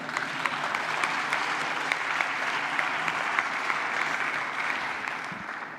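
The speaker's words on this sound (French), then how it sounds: "on peut les applaudir." A large audience applauds during Emmanuel Macron's address on a new alliance between Africa and Europe: steady, even clapping from many hands that holds for several seconds and then tapers off at the end.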